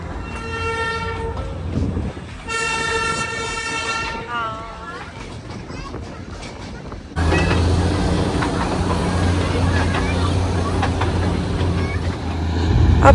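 Diesel-hauled toy train ride on the Darjeeling hill railway in the monsoon, with a sustained engine and rail rumble and a horn sounding early on, growing louder and denser partway through as the train moves.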